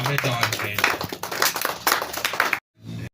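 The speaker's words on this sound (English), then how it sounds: "Can we give Michelle another round of applause?" Audience clapping at a live innovation showcase event, a dense patter of hands that swells and dips over a few seconds before cutting off abruptly, with brief talk near the end.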